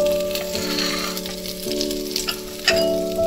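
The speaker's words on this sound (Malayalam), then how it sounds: "വീണ്ടും അതിൻ്റെ മുകളിലോട്ട് ബാറ്റർ ഒഴിച്ചു കൊടുക്കുന്നുണ്ട്" Batter sizzles and fries as it is poured onto a hot pan, a steady close crackle with light tonal hum underneath and a brief louder burst near the end, no talk.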